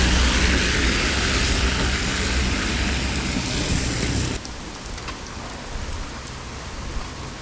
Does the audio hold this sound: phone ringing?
no